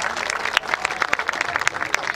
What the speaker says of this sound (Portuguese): Um aplauso para eles, por favor,